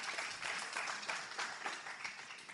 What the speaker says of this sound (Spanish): Dele un fuerte aplauso a Jesús.